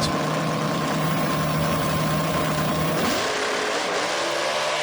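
Drag racing car at Beech Bend Raceway during the Hot Rod Reunion, its engine droning loudly then faltering and dropping pitch as the driver stumbles and backs off the throttle.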